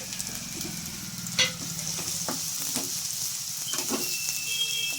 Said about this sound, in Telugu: మనం బాగా కొంచెం బ్రౌన్ కలర్ వచ్చేంత వరకు ఆనియన్స్ అయితే వేపుకున్నామండి